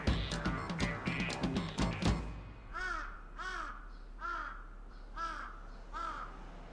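Crows calling in Tokyo: a burst of cluttered noise, then five evenly spaced harsh caws at a moderate distance, each clear and separate against a quiet background.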